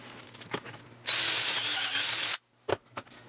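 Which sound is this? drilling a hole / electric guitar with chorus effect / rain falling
drilling a hole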